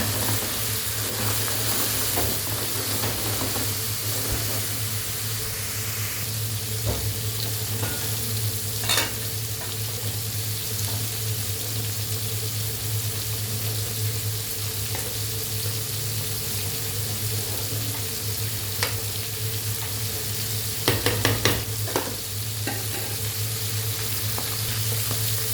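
Food frying in oil in a home kitchen, with a splash of vinegar added, gives a steady continuous sizzle throughout, alongside occasional stirring clinks and brief tap-water sounds near the end.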